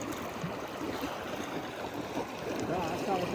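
Rapids on the Ukhta river churn and roar in a steady, dense rush of water around a rafting boat, close and continuous throughout.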